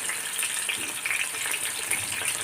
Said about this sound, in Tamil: அந்த விழுதை வந்து இந்த ஆயிலில் போட்டுருவோம் இந்த ஆயிலே நல்லா வதங்கட்டும்